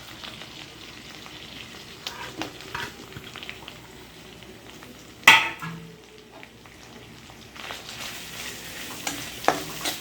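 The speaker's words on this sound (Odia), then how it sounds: "ଆମେ ତେଲରେ ଏବେ ପିଆଜ ପକେଇଦେବା" Chopped onions frying in hot oil, a soft crackling sizzle with stirring and a sharp utensil clatter midway, close and fairly quiet throughout.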